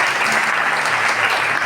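A church crowd applauding at a launch event, a dense, loud, continuous clatter of many hands with no break, close and filling the space.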